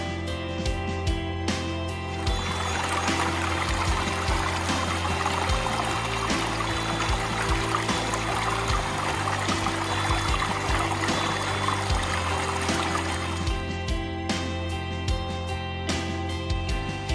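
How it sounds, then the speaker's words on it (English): A waterfall on the Appalachian Trail in southern Virginia fills the air with a steady, loud rush of falling water that holds constant throughout, with faint tonal layers underneath. "that waterfall is pretty spectacular"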